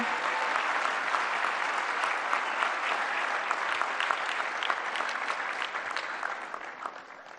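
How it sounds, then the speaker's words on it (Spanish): A large audience applauds in a sustained, dense burst of clapping that runs evenly and fairly loud for over seven seconds, tapering slightly at the end. "hay que darle un gran aplauso, una felicitación"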